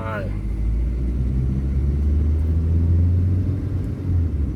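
A Mitsubishi Lancer with an automatic gearbox, a blinking N light and harsh, jerky shifts pulls away. A loud, steady low engine rumble fills the cabin, rising slightly partway through, with no clear breaks.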